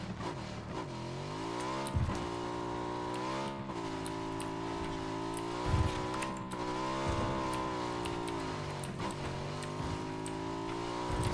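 A PUBG vehicle engine drones continuously at moderate volume, its pitch rising and dipping slightly with occasional revving swells and faint ticking on top.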